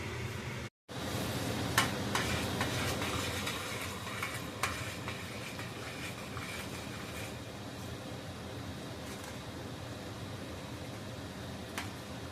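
Cheeseburger helper cooking in a pan while melted cheese is stirred in, a soft continuous sizzle with occasional scraping clicks, close and fairly quiet after a brief dropout near the start.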